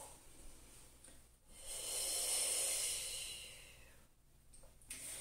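A slow, deep breath drawn in and released during an upper-back and shoulder-blade stretch with the head hanging forward, a soft airy rush that swells over a couple of seconds, close and alone.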